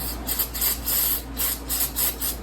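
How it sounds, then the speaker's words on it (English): Short hissing spurts of brake cleaner sprayed onto the cylinder head of a 2.4-liter GM EcoTec engine, about six rhythmic pulses close by, alone without talk. "We'll spray it with a little brake clean."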